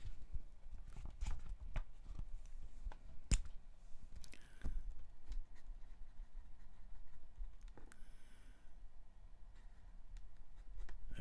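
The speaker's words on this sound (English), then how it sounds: "I've just got to write down the time." A pen scratches and taps on paper while someone writes down the time, soft close scribbling strokes with a few sharp clicks against a quiet room.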